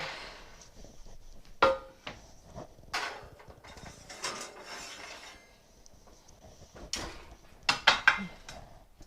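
A cornbread pan being slid into a home oven and the oven door handled: scattered clanks, scrapes and rattles of metal, with a sharp clunk early on and a cluster of knocks near the end.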